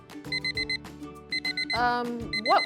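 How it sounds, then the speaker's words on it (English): A warning alarm rings in short, evenly spaced electronic beeps, loud and close, pausing briefly mid-clip before the beeping resumes, with a few clattering and swooping tones mixed in and no talk. "that was my warning alarm"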